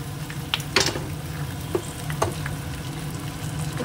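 Green chillies fry in a pan with a soft, continuous sizzle, broken by a few sharp clicks and scrapes of a spatula stirring, fairly close and moderately quiet.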